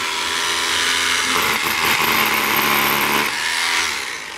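A rotary hammer drills in one continuous loud, close burst, a harsh high whine with rough hammering texture that builds and then eases off near the end.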